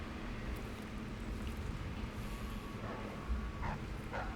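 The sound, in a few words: dogs barking in video game Dishonored 2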